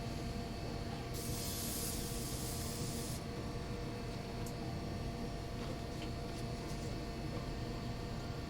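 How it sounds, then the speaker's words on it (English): Water spritzed from a small spray bottle into a pot while painting a Mortarion miniature, a bright hissing burst of about two seconds over a steady background hiss, with no talking. "It's just like a little water bottle that I can actually spray into the pot here and wash it out."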